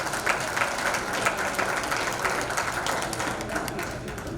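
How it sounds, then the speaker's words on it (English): Audience applause at a community outreach gathering in Boston, a steady, moderately distant patter of many hands clapping that continues evenly for a few seconds without a clear peak. "Please give them a round of applause"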